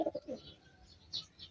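Racing pigeons coo in a few soft, throaty bursts near the start, then fainter calls and a chirp follow at a short distance, with no talk over them.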